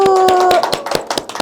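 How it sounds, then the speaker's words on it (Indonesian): Scattered hand claps from a classroom group ring out close and uneven for under a second, following a sustained high tone. "Tepuk tangan dulu."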